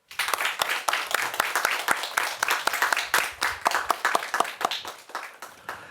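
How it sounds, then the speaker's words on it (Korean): A church congregation breaks into applause, a steady run of sharp, close handclaps for about six seconds, bright and fairly loud with no speech over it. "하나님께 영광의 박수."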